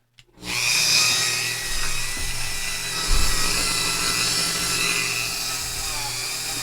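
A polishing mop spins up on a buffing motor and runs in a steady, loud whir as a jewelry cabochon bezel is buffed, with a slight change in load midway and no talk.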